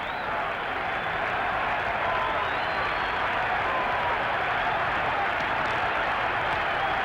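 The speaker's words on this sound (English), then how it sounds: "Full count, and once again the crowd comes alive." A 1978 baseball stadium crowd cheers steadily on a full count at a Yankees game, a broad sustained roar with scattered clapping that holds at an even level throughout, with no speech over it.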